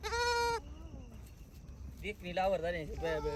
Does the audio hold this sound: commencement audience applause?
no